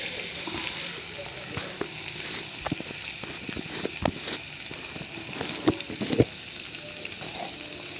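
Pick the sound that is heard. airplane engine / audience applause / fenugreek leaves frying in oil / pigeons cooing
fenugreek leaves frying in oil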